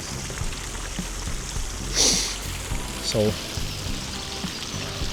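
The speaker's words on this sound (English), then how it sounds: "here we see the water dripping through, and that's the water level" Water drips and trickles through the gates of lock number 2 on the Stanley Flight canal locks, a continuous pouring wash with a few louder splashes, while someone talks over it.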